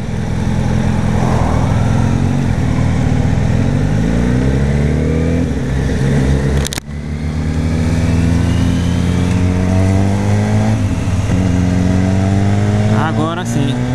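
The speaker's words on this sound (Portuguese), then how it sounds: "é o carro aí do teu lado" A car engine hums close by in Atlanta traffic, steady and loud, with a brief rev midway and traffic noise all around.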